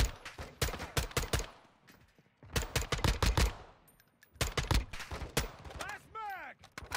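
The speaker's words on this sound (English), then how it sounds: "that mini gun can spin up real fast" A minigun fires in a video game in three long, rapid-fire bursts separated by short pauses, then gives a brief rising whir as the barrels spin. The shooting is loud and close, with no talk over it.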